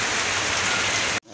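Steady rain pours down outdoors during a break at a motorbike race, a dense, even hiss filling the clip before cutting off abruptly near the end.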